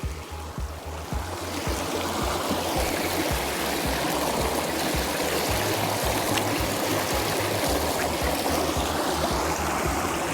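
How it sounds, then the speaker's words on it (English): Flowing stream water babbles and rushes steadily from nearby, a continuous close wash that swells slightly after the first second and holds evenly, with no voices. "Here we are, next to the water."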